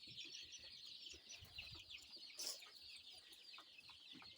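Chicks in a brooder converted from a chest freezer, chirping and peeping continuously in a dense, quiet chorus with one brief sharper peep.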